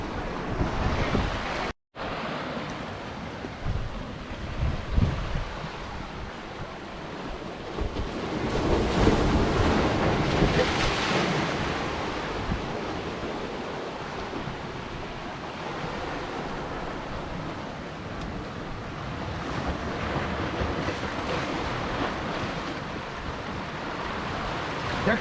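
Ocean waves break and wash on the rocky shore near the Headlight lighthouse in Portland, Maine, a loud continuous roar with rising surges and heavy wind noise on the microphone.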